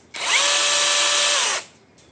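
A cordless electric chainsaw with chain oiling spins up sharply, holds a loud, steady high-pitched motor whine for about a second and a half, then winds down and stops.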